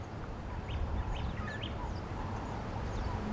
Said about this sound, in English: I think that was two birds having a fight with each other.